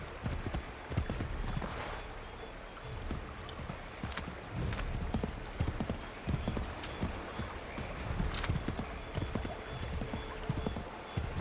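Horse hoofbeats in the Assassin's Creed III video game, a steady run of clip-clop steps at a full canter over a dense outdoor game ambience, fairly loud and continuous throughout with no talk.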